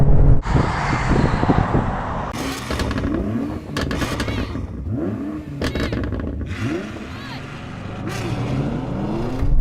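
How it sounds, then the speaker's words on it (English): A Ferrari and a Nissan GT-R drag racing: loud, close engines roar and rev hard, with shifts and surges rising and falling over a continuous mechanical din. "neck and neck with the Ferrari. This just goes. GTR's doing all right."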